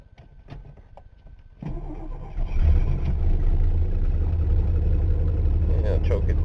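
A Ford engine cranks without catching, starting as a quieter churn and then building into a loud, close, steady grind. Voices talk over it.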